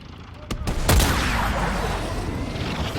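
Gunshots in the video game Call of Duty: Black Ops Cold War: a few sharp, close reports in quick succession, the last one loud with a booming tail that rings on, and some voices in the background.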